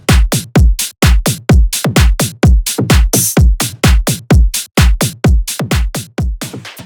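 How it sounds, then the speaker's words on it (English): A punchy bass house drop drum loop with a heavy kick on a steady four-on-the-floor pulse, crisp claps and hi-hats layered over it, loud and up front. "Drop drums altogether sounds like this."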